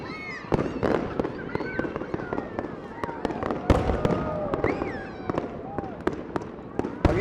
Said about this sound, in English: the fireworks are a lot closer this year, so I need to recompose, go out wide.